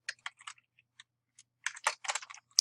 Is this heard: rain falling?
no